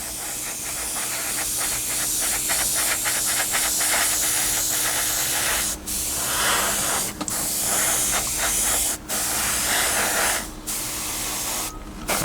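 An airbrush sprays a coat of paint onto a 1/48 scale Tamiya P-51D Mustang model, a close, steady hiss broken by several brief pauses as the trigger is released and pressed again.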